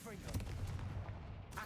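A fire blast spell goes off in the video game Hogwarts Legacy, a short, deep percussive burst with low rumbling thumps that fade quickly.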